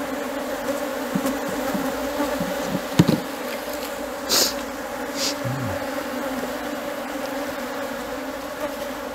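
Honey bees swarming around the smallest hive box in an apiary, a daughter colony recently split, give a continuous, dense, close buzzing hum with a few brief louder passes.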